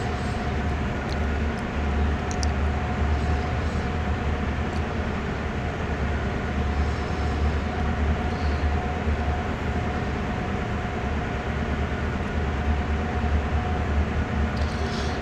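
A CSX heavy-haul freight train in Train Sim World rolls along at speed, with a steady, loud, deep engine drone and continuous rail rumble that never lets up, and no voices.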